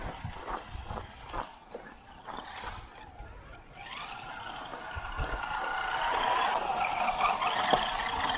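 An Eachine EAT11 1/14-scale 4WD RC truck runs over a packed-snow driveway, with scattered bumps and clicks at first and then a rising electric motor whine that grows louder and steadier.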